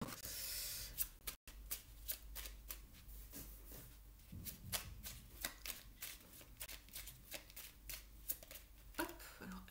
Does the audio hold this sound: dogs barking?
no